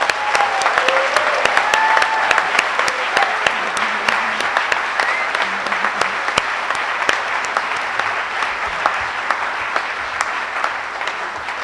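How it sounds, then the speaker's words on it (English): Loud, sustained audience applause at an inaugural white coat ceremony for a school of medicine and engineering, dense clapping from a large crowd with a few sharp individual claps standing out throughout. "Let's give a round of applause to our new physician engineers."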